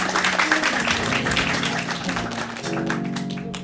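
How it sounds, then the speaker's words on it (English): Applause from an audience at a youth TEDx event welcoming a student speaker, moderate clapping blended with a sustained musical tone underneath, continuing evenly without talk. "Let's welcome her with a big round of applause."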